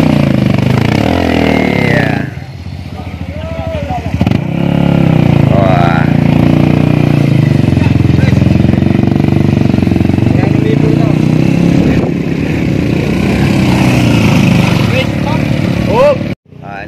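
A motorcycle engine revs loudly and continuously as the bike works across a road cut by a Semeru lahar flood, the throttle dipping briefly before pulling hard again, while people talk nearby.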